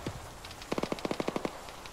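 Vehicle-mounted gun firing in the military game Arma, a rapid burst of about a dozen sharp, fairly distant shots in quick irregular succession after a couple of faint earlier pops.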